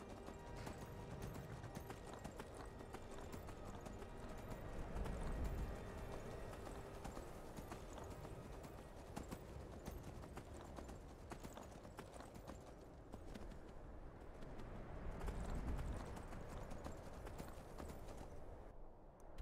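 A horse in Skyrim clip-clops at a steady gallop, hoofbeats drumming continuously at moderate volume with occasional louder thuds and no talk over them.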